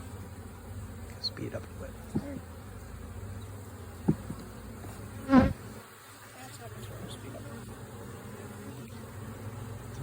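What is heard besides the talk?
honey bees buzzing around an open hive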